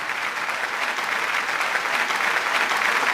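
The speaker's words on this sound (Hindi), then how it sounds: "तालियों की गूंज में हम इस्तकबाल करें जनाब" Steady, full applause from a mushaira and kavi sammelan audience in Dubai welcoming poet Aalok Shrivastav, a dense continuous roar of clapping without pauses.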